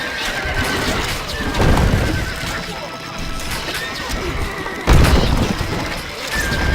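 Horses in the Stronghold Crusader video game whinny loudly over galloping hooves, with sharp crashes and thuds of battle breaking in at intervals.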